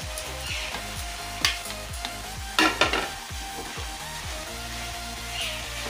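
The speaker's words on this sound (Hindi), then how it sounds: "इसको अच्छे से मिला लेंगे इस तरह से, फिर इसको ढक देंगे मिला करके, ताकि साग हमारा भुना जाए अच्छे से" Poi saag greens sizzle in roasted masala in a pan while a spoon stirs them with repeated scraping strokes and occasional louder clanks against the metal, close up over a constant frying hiss.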